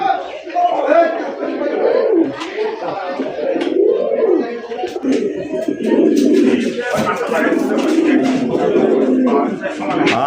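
Large fancy racer pigeons coo repeatedly in low, throaty rolls close by at a pigeon market, mixed with people chattering nearby.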